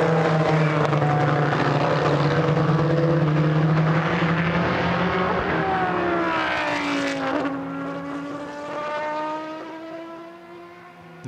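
Race car engines scream loudly past at a Silverstone endurance race, one car's high pitch sweeping down as it passes close. Several other engines drone beneath it before the sound fades slightly.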